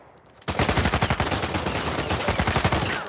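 Rapid bursts of automatic gunfire from the Uncharted 4 video game erupt after a brief quiet start, dense, loud and continuous with a pulsing rhythm of shots.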